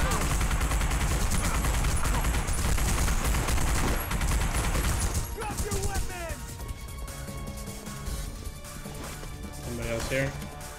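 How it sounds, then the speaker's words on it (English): Rapid bursts of gunfire and crashing impacts fill a firefight in The Punisher video game, loud and continuous at first, then thinning into scattered shots and clatter over game sounds. "Shooting!"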